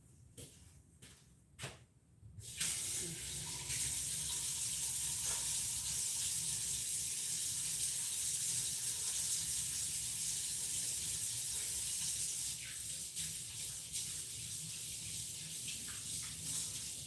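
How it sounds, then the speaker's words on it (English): Tap water runs steadily into a sink for hand washing in a home kitchen, a continuous close hiss after a few brief knocks and clatters at the start, with no talk. "Let me go wash my hands."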